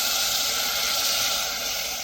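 Half a glass of water added to a pan of cooking sarson ka saag (mustard greens), producing a loud, steady sizzling hiss with no break, close by and without talk.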